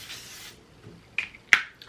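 L'Oreal 3-second setting mist sprays onto a face in short bursts: a soft hiss at the start, then two sharp quick spritzes close to the microphone with quiet gaps between.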